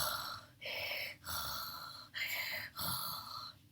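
A voice imitates a monster panting: five heavy, raspy breaths in a slow, even rhythm, close and fairly quiet.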